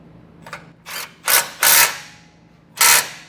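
A power tool snugging up tow hook bolts on a 2024 GMC: several short, loud ratcheting bursts of an impact driver, about five in a row with brief pauses, close by and without talk.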